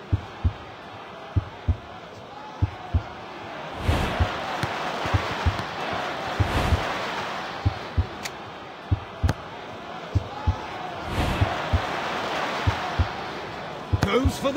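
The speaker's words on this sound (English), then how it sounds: "The fans are cheering louder" Stadium crowd noise swells and fades in the Score Hero 2 football game, with a broad cheer rising midway, under a run of sharp rhythmic thumps and game effects and a commentator-style voice.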